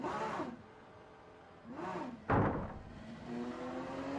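Porsche GT3 race car engine in the Rennsport racing game, its roar rising and falling through revs and gear changes, with a sharp louder burst midway and a steady drone after it.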